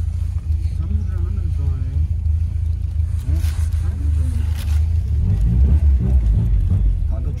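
A car drives along the road with a low engine rumble and road noise that builds toward the end, while people talk inside the vehicle.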